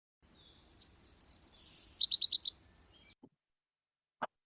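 A Nashville warbler sings a clear, high song of two parts: a series of sweet repeated notes, then a quicker run of lower trills, followed by silence.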